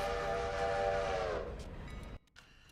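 A passenger train in the game Railroader sounds a long, loud multi-tone horn over rumbling wheels. The horn cuts off partway through, and the train noise then fades to near quiet.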